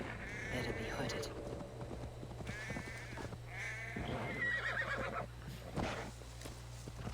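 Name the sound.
horse galloping and neighing in a video game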